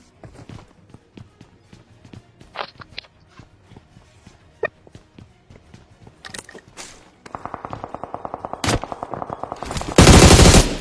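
Assault rifle gunfire in the Free Fire mobile battle royale game: scattered single shots and footsteps early, then sustained rapid automatic bursts building to a loud, dense volley at the end, with no talking.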